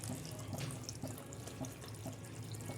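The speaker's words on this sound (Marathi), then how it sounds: "तुम्ही बघू शकता आता मी पाणी टाकलेलं आहे." Water pouring into a misal pot of sprouted matki and peas, a steady continuous splashing wash running throughout without pause, fairly close and moderately loud, with no voices.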